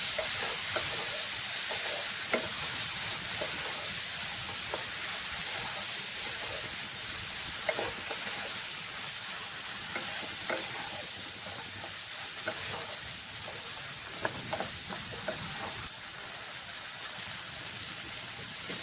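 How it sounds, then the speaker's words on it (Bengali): Mashed pointed gourd mixture sautés in a pan, a continuous close sizzle and hiss with occasional clicks and scrapes of stirring, steady throughout with no talking. "এখন এই সব কিছু খুব ভালো করে কষিয়ে নিতে হবে"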